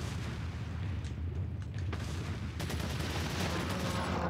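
TMP submachine gun fire in Resident Evil 4, rapid sharp bursts of shots over a loud rumbling game soundscape, continuous and close with sustained automatic fire toward the end.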